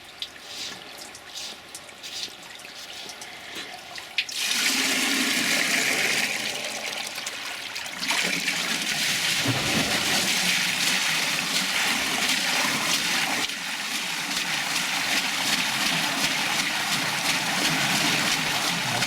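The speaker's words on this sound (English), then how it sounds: "Let me turn on the water reel here." A homemade water wheel switched on beside a nearly full pond, water rushing and splashing steadily into it after a quieter opening, a loud, continuous wash of flow with no talking.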